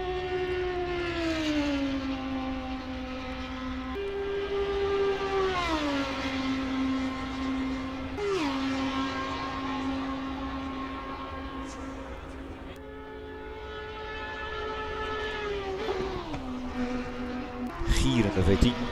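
The Audi R8 LMS GT3's V10 engine screams in Assetto Corsa Competizione, its pitch rising through the revs and dropping at each gearshift again and again, loud and close, with someone talking over it.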